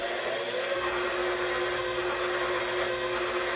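Electric mixer beating blueberry roll dough, a steady close motor whir with a constant drone, running alone without talk.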